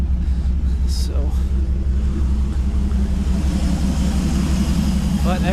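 A Land Cruiser bogger engine idles while its transmission cools, a steady, close, deep rumble that holds even throughout, with a few faint higher noises on top.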